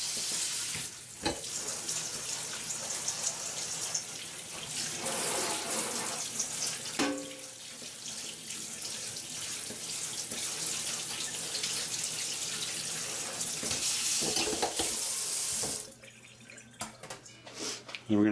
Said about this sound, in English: we're going to drain the cherries and rinse them and dry them.